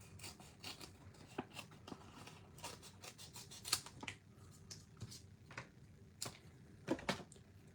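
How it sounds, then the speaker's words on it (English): Scissors snip through paper strips being cut for a handmade Stampin' Up card, with a run of small, close, quiet clicks and rasps that come at irregular intervals and are heard on their own. "Just going to cut some strips."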